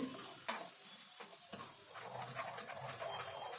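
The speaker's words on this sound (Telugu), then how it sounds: "ఏదైతే పేస్ట్ మనం రుబ్బినామో టమాటా ఉల్లిగడ్డ బాదం కాజు కొబ్బరి అది ఇందులో వేసి కలుపుకోవాలండి" A ground paste of tomato, onion, almond, cashew and coconut is stirred into cauliflower kurma, producing a close, soft wet stirring and low sizzle with a few light clinks, with no voices.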